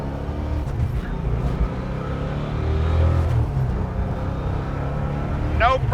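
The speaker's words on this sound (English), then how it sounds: "let's take the Road Runner for a ride." A 1970 Plymouth Road Runner engine rumbles steadily at close range, its low growl swelling as it accelerates into traffic, with someone talking over it.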